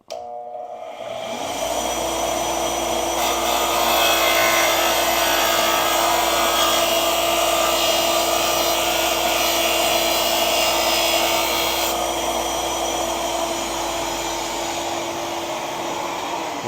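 A power tool hums loudly and steadily for many seconds while cutting down and cleaning up the tip of a golf club shaft during a custom Miura TB-901 iron build. It starts abruptly after a brief quiet moment.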